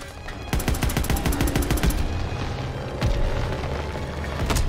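Rapid bursts of automatic gunfire and heavy booms in the World War II shooter game Call of Duty: WWII, loud close volleys of machine-gun fire followed by a deep blast, with rumbling battle noise behind.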